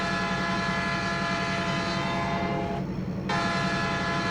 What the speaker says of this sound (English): there goes a freight train